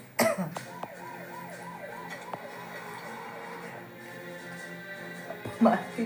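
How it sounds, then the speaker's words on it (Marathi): A persistent, lingering cough: one sharp cough at the start and another near the end, with a faint wailing siren in the distance between them. "खोकला काय कमी नाही झाली अजून"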